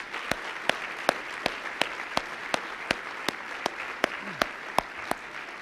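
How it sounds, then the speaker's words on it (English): An audience applauds at a JMU stewardship luncheon. A wash of clapping runs under a crisp, evenly spaced single clap that beats out a steady rhythm close by. "Can you just give them a round of applause?"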